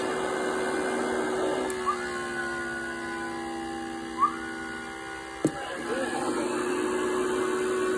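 An amplifier's cooling fan run at 19-20 volts gives a steady, loud whooshing drone that fills the clip, with a faint tone and a couple of brief clicks over it.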